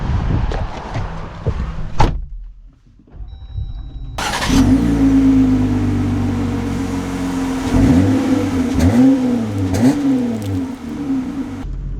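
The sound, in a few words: 2024 Jeep Gladiator Sport driving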